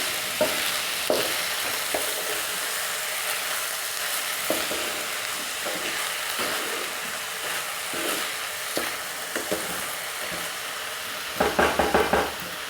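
Sweet rice with tutti frutti is stirred in a pan over a steady sizzle, with a spoon scraping the pan at a regular pace and a quick burst of clinking strokes near the end.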